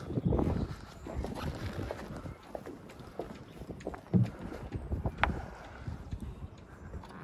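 Footsteps thud and tap across the deck as someone walks up onto the bow of a Beneteau Gran Turismo 46 motor yacht, irregular near steps over wind and water noise.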